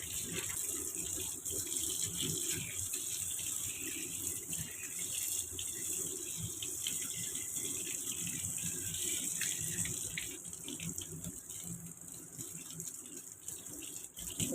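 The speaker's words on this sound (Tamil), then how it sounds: "மொத்தமாக இதெல்லாம் நல்லா க்ளீனாக வாஷ் பண்ணிக்கலாம்" Tap water runs steadily over fish being washed in a sink for Kerala-style meen pollichathu, a constant close splashing flow with no talk.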